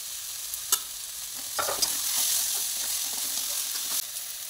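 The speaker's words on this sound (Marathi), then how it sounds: "पनीर किसून घेतलेलं आहे ते टाकून घेऊया" Grated paneer frying in an iron kadhai for an oil-free paneer bhurji, a steady sizzle with scraping stirs and a few sharp clicks of the spatula against the pan.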